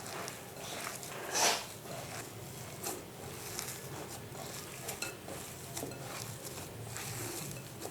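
Spoon stirring and mashing tandoori masala into a potato kebab mixture in a bowl, soft, faint scraping and dull knocks with one brief louder clink, close and quiet.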